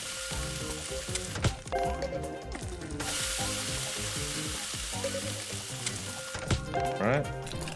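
Chicken frying in the Cook, Serve, Delicious video game, a continuous bright sizzle with scattered clanks and tonal game cues layered over it, fairly close and steady.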